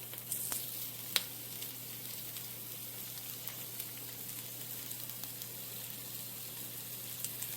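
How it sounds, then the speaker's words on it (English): Sausage browning in a pan, a soft steady sizzle with a few sharper pops and spatters, fairly quiet and without any voices. "So now that we've got the sausage in here, we're going to get this brown."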